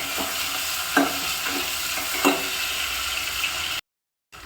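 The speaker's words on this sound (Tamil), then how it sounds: "அதையும் போட்டு நம்ம நல்லா வதக்கலாம்." Chopped onion and green chili sautéing in a pan, with a steady sizzle and occasional stirring scrapes, close and moderately loud, cutting off briefly near the end.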